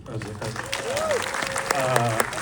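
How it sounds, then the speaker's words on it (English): An audience at a film Q&A applauds for Kevin, a short burst of clapping that swells and holds while a voice speaks over it. "let's round of applause for Kevin."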